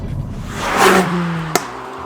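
A 2023 Ford Focus ST's 2.3-litre EcoBoost engine revs up and settles into a steady hum, with a single sharp pop near the end, heard close with no talk.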